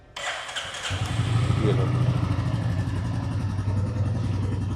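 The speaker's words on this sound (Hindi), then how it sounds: "बाइक को स्टार्ट कर लेते हैं, इंजन साउंड सुनते हैं, एग्जॉस्ट नोट सुन लेते हैं।" A Royal Enfield 350 cc motorcycle cranks and fires into a steady, loud, thumping idle with a continuous exhaust note; someone speaks briefly just before it catches.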